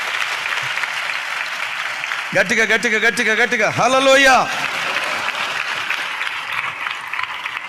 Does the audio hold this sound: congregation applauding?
yes